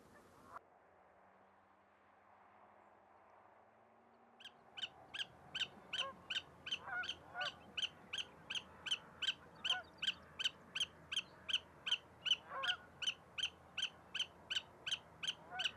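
A young willet calls over and over in a steady, evenly spaced series of sharp, loud notes, close by and continuing without pause after a quiet stretch at the start.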